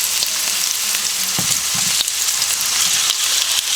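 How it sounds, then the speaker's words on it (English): Sliced potatoes fry in hot oil for Southern fried potatoes with onions, giving a steady, close broadband sizzle that hisses continuously throughout, with a few brief crackles and pops and no talking. "test the oil a little by putting the potato in there, and as you can see, it's sizzling."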